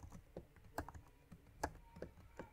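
Keys clack on a computer keyboard in a quiet room, a series of irregular light taps with a few sharper strokes, no voices.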